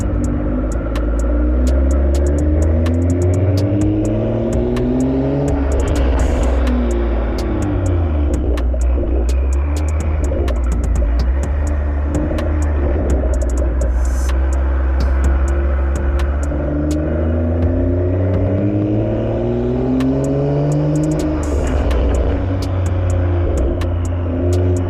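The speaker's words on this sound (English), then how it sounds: "After an hour-long drive, this car sounds ridiculous." A BMW M340i's engine rumbles continuously while driving through a parking garage, its low drone rising and falling with revs and echoing off concrete, with crackles and pops on the overrun.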